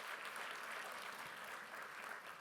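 Applause from an audience at a national assembly session honoring a mayor, a dense, steady clapping from many hands that continues without a break, somewhat distant and evenly sustained.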